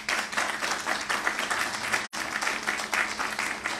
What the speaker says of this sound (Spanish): Un aplauso a los bomberos.